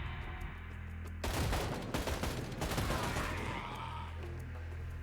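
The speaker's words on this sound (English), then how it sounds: "awoken to the sound of gunshots as a group of citizens had finally begun attacking the soldiers on" Gunfire from the zombie survival game Project Zomboid breaks out as a dense, loud burst of rapid shots over a low ambient hum, then thins back to the background drone.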